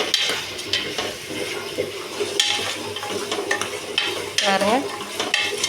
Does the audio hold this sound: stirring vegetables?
yes